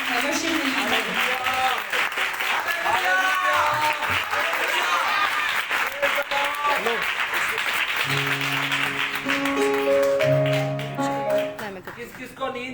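An audience at a children's conference in Rawalpindi applauds to welcome a pastor to lead worship, steady clapping under a speaking voice, with music notes entering toward the end.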